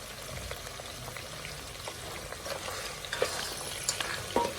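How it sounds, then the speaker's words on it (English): A spoon stirs okra stew in a hot pot, close and fairly quiet, with soft bubbling and sizzle under a few sharper clinks of utensil against the pot near the end. "Let's give it a good stir."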